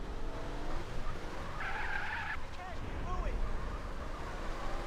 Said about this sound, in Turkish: O ne kayıyor la araba?